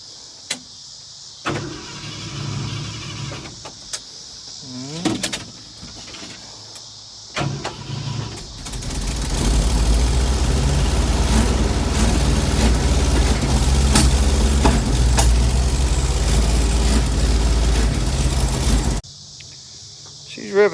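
A Ford F100 short-bed bumpside pickup engine cranks briefly, catches, and settles into a loud, steady high idle that runs for about ten seconds before cutting off, close by with nothing else heard.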